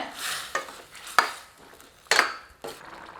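A spoon stirs ground coconut paste into bubbling kootu in a cooking pot, made for a Pongal feast: four or five close, scraping strokes against the metal with sharp clinks, over a steady bubbling hiss and no voices.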